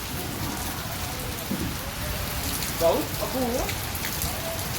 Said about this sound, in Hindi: बारिश लगी।